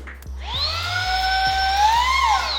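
A Baseus cordless car vacuum cleaner, switched to its blower function on level 10, spins up with a rising motor whine that settles into a loud, steady, high-pitched airy hum close by, with no speech.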